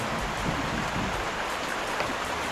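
Heavy rain pours steadily and loudly at an outdoor work site where a septic pit is being built, forming a dense, unbroken hiss with no voices.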